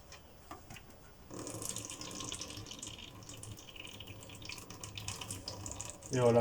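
Engine oil drains from a Peugeot 406 1.8 16V during an oil change, a soft steady pouring trickle that starts after a moment and continues at low level, with a person speaking briefly nearby.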